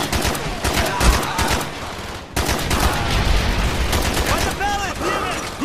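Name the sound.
mortar and gunfire in video game Call of Duty Black Ops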